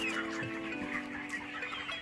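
Chickens on a broiler poultry farm, four hens and a rooster, clucking close by in short, overlapping murmured calls over a steady background hum.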